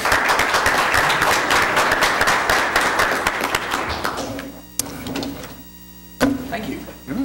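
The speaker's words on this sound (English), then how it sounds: "So please give him a round of applause." Hearty audience applause for a university president at a student government meeting, loud dense clapping for about four seconds that thins out, followed by someone speaking.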